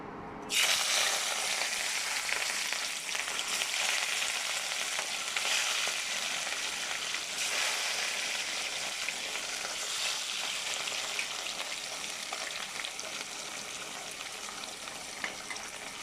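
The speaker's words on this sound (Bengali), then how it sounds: "দেখুন, আমার মাছটা ভাজা হয়ে আসছে" Steady frying of katla fish in a pan, a close, even sizzle that crackles continuously with no talking.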